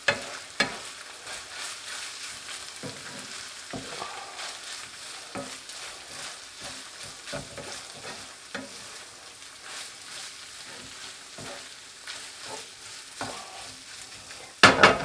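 Onion and finely chopped hard-boiled egg filling being stirred in a pan, a quiet steady scraping and soft sizzle with scattered utensil clicks, ending in a louder clatter.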